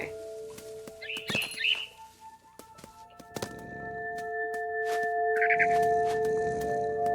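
Bird chirps in the What Remains of Edith Finch video game, short bright calls over steady game tones, near and fairly clear, with no voices.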